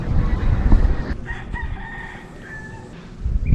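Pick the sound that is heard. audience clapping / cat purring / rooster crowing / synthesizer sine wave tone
rooster crowing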